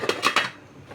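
A lid goes onto a cooking pot of fish tinola, giving a quick cluster of three close metallic clinks that ring out briefly.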